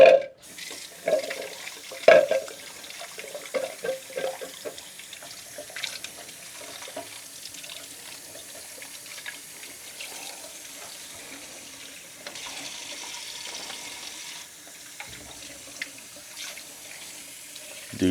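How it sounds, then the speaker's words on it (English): Tap water running into a sink while freshly developed black and white film is rinsed, a fairly quiet continuous splash with a few louder knocks and handling sounds near the start. "I'm actually gonna wash this a little bit more."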